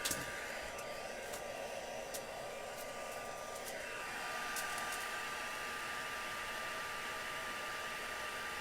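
A heat tool blows steadily to dry whitewash on a stamped craft project, a constant close whooshing hum that runs unbroken with a slight shift in pitch partway through.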